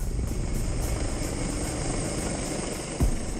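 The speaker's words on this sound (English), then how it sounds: "30 minutes later, the helicopter arrives overhead." A rescue helicopter hovers overhead at sea, its rotor beating in a steady rhythmic chop over a constant engine drone, loud and unbroken, with one brief thump near the end.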